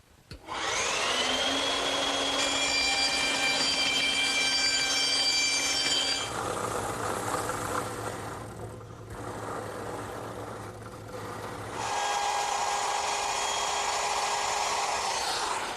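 A power saw blade whines steadily as it makes a second cutting pass through wood for a console table's mortise-and-tenon joinery, loud and continuous with a pitch shift midway and no talking.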